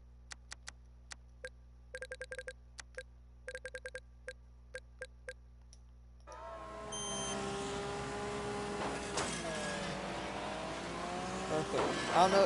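Racing car engine in the video game Wreckfest at a dirt stadium track, a steady roar that starts midway after a run of sharp ticking beeps, with rising revs and tire noise toward the end.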